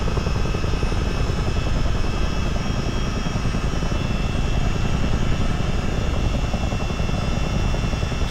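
A US Army Chinook helicopter flying low over North Carolina in Microsoft Flight Simulator gives a loud, constant, thick rotor drone with a steady fast beat and a turbine whine, unbroken throughout.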